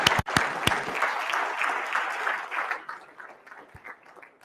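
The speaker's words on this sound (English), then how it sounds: "big round of applause" An expo audience applauds as a guest is called to the stage, a few sharp close claps at first, then a steady moderate wash of clapping that gradually fades.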